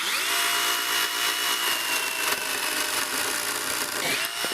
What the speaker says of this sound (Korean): 지름이 한 10cm가 조금 넘는 나무인데 요거부터 제가 한번 잘라볼게요